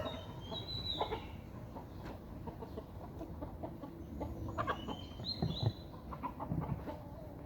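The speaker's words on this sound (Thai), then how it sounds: "นี่ พ่อไก่ ชนะมาสามไฟ สีสันเป็นไก่เชิง แต่เป็นไก่พม่านะครับ" Clucking from a Burmese fighting rooster with three fight wins, with chicken calls scattered across a busy farmyard background, moderately near and unbroken by talk.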